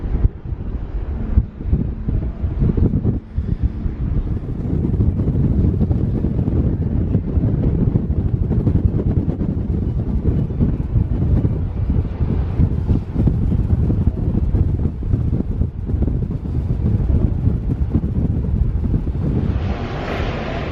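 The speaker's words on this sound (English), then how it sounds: "It's a little bit windy." Strong wind buffeting the microphone on the open deck of a cruise ship arriving at Zeebrugge, a loud continuous low rumble and roar with no one speaking.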